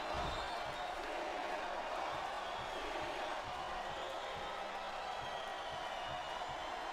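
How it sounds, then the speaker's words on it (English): A large arena crowd chants and roars in the WWE SmackDown wrestling video game, a dense, steady wash of voices filling the whole stretch at fairly low volume, with faint rhythmic thumps underneath. "Wow, listen to that chant."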